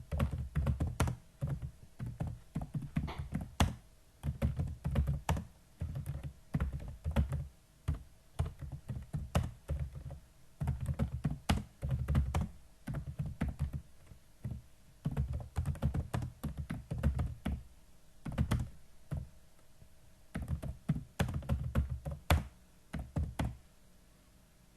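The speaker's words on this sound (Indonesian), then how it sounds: "contohnya ya saya ngetik dulu ya." Typing on a computer keyboard, bursts of quick clattering keystrokes separated by short pauses, close and clear, with no talking.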